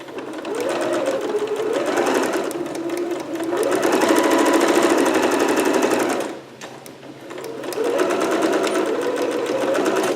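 A sewing machine stitches and back stitches a Vogue pattern garment, running in three loud rapid bursts separated by a brief pause, close up with no talking.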